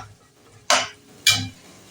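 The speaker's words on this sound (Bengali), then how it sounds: "ভালো করে নাড়াচাড়া করব।" Two separate metallic clinks and scrapes of a spoon against a pan while chicken and spices are stirred, each short and close, with quiet stillness in between and no talking.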